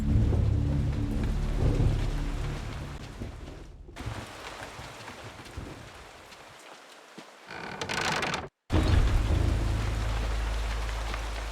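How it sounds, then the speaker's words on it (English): In the video game Eternal Darkness, steady heavy rain hisses alongside deep rolling thunder, loud and continuous apart from two brief cut-outs, with no voices. "that rain sound, though, sounds really nice."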